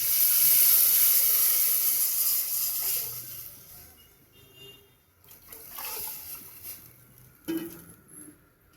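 Kadhi hits hot oil tempered with hing, chillies and lemon, giving a loud, bright hiss that fades over a few seconds into quieter bubbling, with a couple of stirring clatters near the end.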